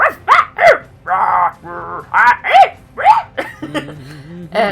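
A voice imitating a dog, letting out a series of short, loud barks and yips in an uneven rhythm, close to the microphone.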